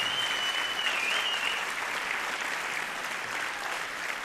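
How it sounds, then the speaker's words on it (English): A convocation crowd at William Paterson University applauds the faculty, a broad, sustained roar of clapping from a large hall audience with a thin whistle-like tone drifting over it early on. "Please join me in a round of applause for the faculty of the William Paterson University."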